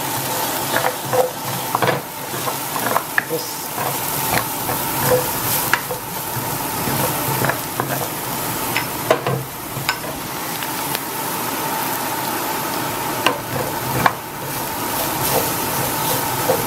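Steak and scallops sizzle in a pan with champagne shallot butter while a metal spoon stirs them, giving a steady close frying hiss broken by frequent sharp scrapes and clinks against the pan.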